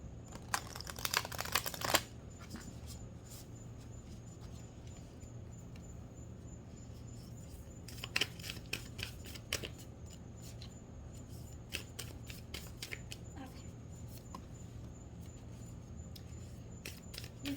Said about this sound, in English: I'm going to shuffle them on the table, I think.